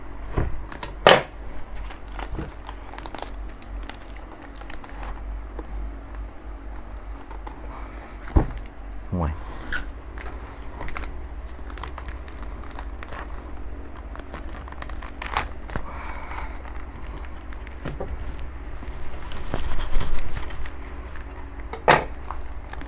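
A knife working through the thick, spiky rind of a Sisaket volcanic durian, giving scattered scraping, cracking and clattering knocks at irregular intervals over a low steady background hum, with no talking.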